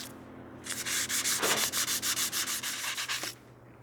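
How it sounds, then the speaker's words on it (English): Hand sanding a wooden pizza cutter handle blank with 240-grit paper on a stopped lathe: a run of about fifteen quick, even back-and-forth rasping strokes, close and fairly loud, with no talking. "I'm just going to sand it while the lathe is off"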